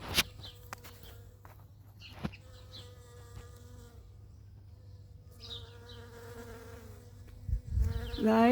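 Bees buzz steadily around flowering garden plants gone to seed, a close, continuous insect drone with passing hums near and far and a brief louder pass near the end.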